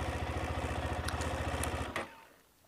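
A 2020 KTM 390 Adventure single-cylinder motorcycle idles with a rapid, even thumping close by, then the engine cuts off abruptly near the end and leaves quiet background.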